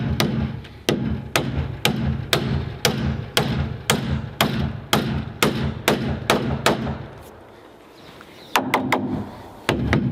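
Hammer blows drive nails into sheet metal roofing on a firewood shed, sharp metallic whacks in a steady rhythm of about two per second, a brief pause, then a few more strikes close by.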